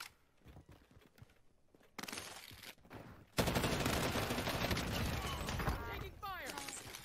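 Rapid automatic gunfire in the Warzone battle royale shooter, with sparse shots early that give way to a dense, loud, sustained burst of fire mixed with chaotic game effects.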